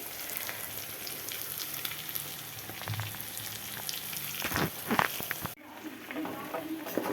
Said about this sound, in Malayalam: കുറച്ച് എണ്ണ ഒഴിച്ചു കുറച്ചായിട്ട് വറുത്തെടുത്തു